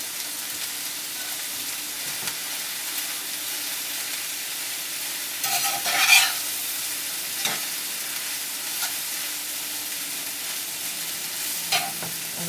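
Peas stir-fried in a pan give a steady, close sizzle with a few scraping stirs, one louder clatter and some brief knocks. No voices are heard.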